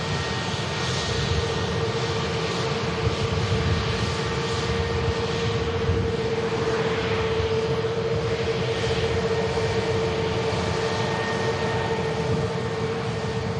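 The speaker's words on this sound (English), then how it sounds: "BA Better World livery on the taxi out" A British Airways airliner in Better World livery taxiing at Manchester Airport, a steady, close jet engine roar with a constant whine, unbroken and without talking.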